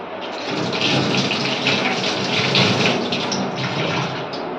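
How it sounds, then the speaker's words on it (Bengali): Potatoes rinsed under running water give a steady, close gush of tap water splashing, fairly loud and continuous throughout. "আলুগুলো ধুয়ে দিয়ে দিচ্ছি"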